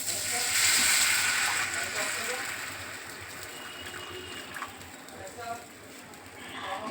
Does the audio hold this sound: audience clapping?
no